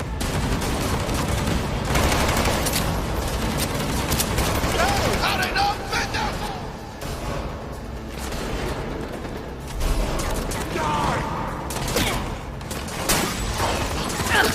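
Dense gunfire in the video game Cyberpunk 2077, with bullets ricocheting off walls, heard as continuous rapid shots and mechanical clatter, loud and sustained, with voices talking over it.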